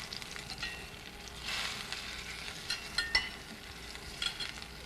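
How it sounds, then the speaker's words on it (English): A poultry pave sizzles softly in a pan while a spatula slides under it and turns it, with a few light clinks and scrapes over a quiet, even fry. "We're ready to flip our pave here very carefully. Just going to stick a spatula in and turn it over here."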